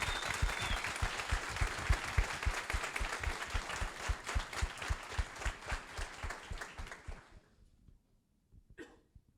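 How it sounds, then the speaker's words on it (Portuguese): A corporate meeting audience claps in a steady, fairly even rhythm for several seconds. The clapping is loud at first, then thins out and fades to quiet, with a faint stray sound near the end. "Por favor, palmas para vocês."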